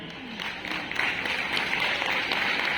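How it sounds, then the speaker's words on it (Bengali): An indoor audience at a Modicare recognition event in Bongaon applauds for a short, steady stretch, a dense wash of clapping that stays even throughout. "হাততালি দিন উদয়জিৎ আর পিয়ালি।"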